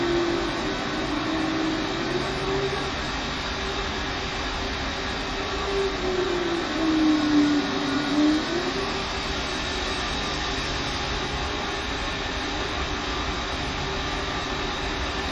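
Jet Blue Airbus A320neo engines in a flight simulator game spool up for takeoff, giving a steady, loud, continuous roar with a faint rising whine partway through and no speech.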